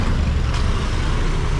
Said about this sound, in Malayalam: ഈ വണ്ടികൾ അങ്ങോട്ട് പോകാനുള്ള വണ്ടികളാണ്.